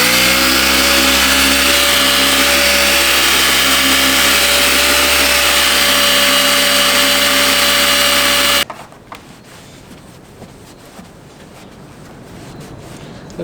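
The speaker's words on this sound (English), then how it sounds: "take some 1-stage compound, a microfiber pad and a polishing machine and see how well we can make these look" A polishing machine with a microfiber pad and one-stage compound buffs driving lights, whining loud and steady for about nine seconds, then cuts off into quiet handling noises.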